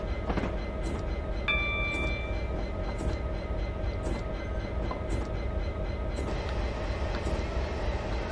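EWS Class 66 diesel freight locomotive in Train Simulator 2017 on the London Paddington to Oxford line, a steady rumbling drone with rhythmic rail clicks and a brief tonal horn-like note early on.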